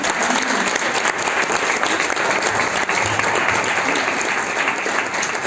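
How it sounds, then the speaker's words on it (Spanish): A church congregation applauds, a dense, steady wash of clapping from many hands that fills the room evenly without a break. "Vamos a darle un aplauso al Señor"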